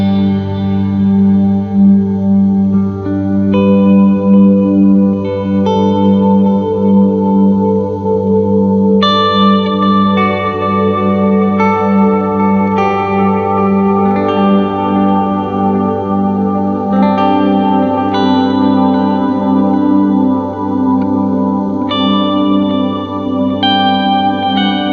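Electric guitar through Dispatch Master delay and Disaster Transport SR pedals at maximum settings, drenched in heavy delay and reverb, notes repeating and washing into a thick, sustained ambient swell with chorus-like shimmer.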